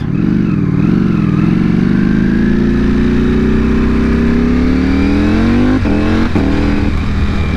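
A 2021 Ducati Panigale V4 SP on stock tuning roars loud and close. Its engine note climbs steadily in pitch as it revs, with brief blips near the end.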